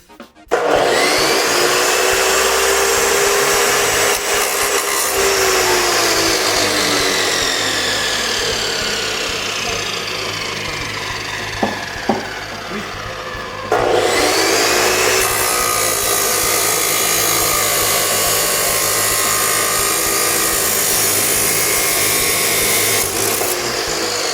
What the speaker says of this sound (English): there's the abrasive chop saw. Fills the shop with smoke, creates a lot of sparks.